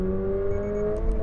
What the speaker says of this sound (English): Love that engine noise, that little burble in the back.